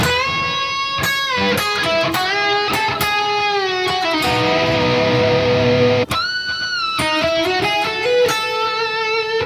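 A distorted electric guitar plays a fast hard-rock solo lick in ninth position, with rapid picked notes, bends and sustained vibrato-laden tones, loud and continuous.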